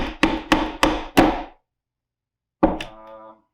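A hammer drives a nail into a wall while searching for a stud: five firm, evenly spaced blows in quick succession, a pause, then one more strike with a brief ringing tail, close and loud.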